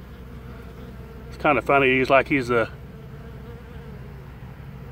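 Honey bees buzz in a steady drone around a guarded hive entrance, close and continuous, while a person briefly talks over the hum.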